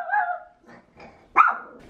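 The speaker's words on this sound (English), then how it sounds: "She is my puppy, and she's barking at I don't even know what outside" A puppy barking at something outdoors, giving a few sharp, close yips and barks with brief growly pauses, loud and alone.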